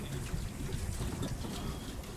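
A boat moving across the water of Dalpat Sagar lake in Jagdalpur, Bastar, gives a steady low rumble and wash with a light breeze and faint trickling, continuous and close.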